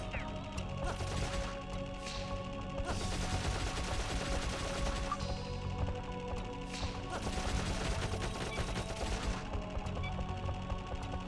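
Rapid bursts of gunfire from enemies in the video game Dark Cloud rattle along with crashing hits and a musical score, continuing steadily through the whole stretch.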